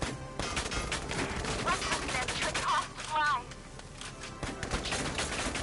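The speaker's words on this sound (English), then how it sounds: "He's literally being shot in the back by his friend" Rapid bursts of gunfire in the tactical war game Valkyria Chronicles 4, a dense, steady crackle of shots running through the whole stretch with a few louder swells, partly under talk.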